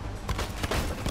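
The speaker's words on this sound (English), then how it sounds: "he's shooting his gun sideways" Gunfire in the video game Narco Terror, a dense burst of loud, close shots in quick succession over a busy, noisy game mix.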